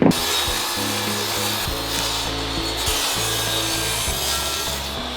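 A saw cuts a piece of wooden subfloor for a heated van floor install, giving a continuous loud, close rasping stroke with steady tonal hum underneath and no talking.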